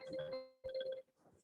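A telephone ringtone sounds during an online thesis-methods class, a steady electronic tone in two short bursts followed by a quieter tail, with faint voices underneath.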